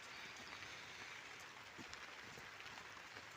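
Rain falling around a greenhouse farm, a dense, even patter of drops that stays constant and fairly quiet throughout, no talking.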